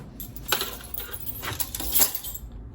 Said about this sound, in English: I dropped my keys